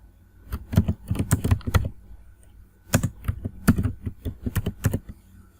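Fingers type on a computer keyboard during a web design tutorial, two quick bursts of close, crisp key clicks separated by a short pause, with no talking.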